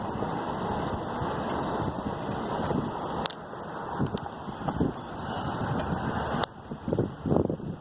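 Strong wind of about 17 miles per hour buffets the microphone during an outdoor bike ride to a park, a steady loud rushing roar with a few sharp gust bumps and no talking.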